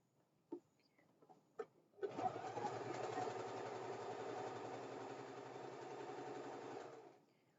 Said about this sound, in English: now I'm going to start with sew one back stitch and then start sewing